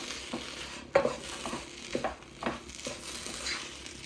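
Tomato masala being stirred into rice in a pan, quiet scraping and occasional spoon knocks over a faint sizzle.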